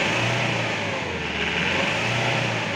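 A Mahindra Bolero pickup's engine runs at a steady, loud rev, a continuous mid-pitched roar close by that holds level throughout with no voices over it.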